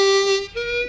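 A harmonica played with too much tension gives a thin, reedy single note that holds, then shifts slightly higher, played alone and close for under a second.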